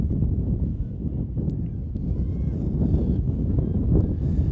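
Strong wind gusts at a boys' soccer game buffet the microphone in a continuous low roar that swells and eases, with faint distant activity beneath.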